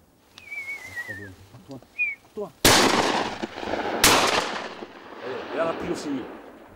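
Shotgun blasts while hunting migratory birds outdoors: two loud, sharp reports a little over a second apart, each trailing off in a long echo, preceded by bird calls and a brief human voice, with murmuring after.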